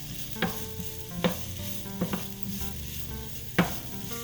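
Onions frying on high heat in a pan, a steady soft sizzle with a few sharp clicks of a utensil stirring against the pan, close and moderately loud with no talking.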